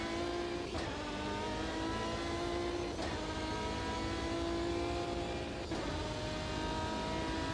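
Race car engine in the sim game Automobilista 2, a rich, sustained mid-pitched drone with steady harmonics, punctuated by three brief gear-shift breaks spaced a couple of seconds apart.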